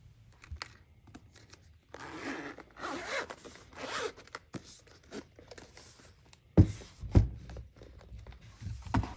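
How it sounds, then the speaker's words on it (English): Plastic hard shell case for a Sony DualSense Edge controller, its two PS-logo zippers drawn open: several close, rasping zipper pulls in bursts with short pauses, then louder handling clicks and rustles toward the end. "It's a hard shell case made out of plastic, and you have these two zippers with the PS logos on them."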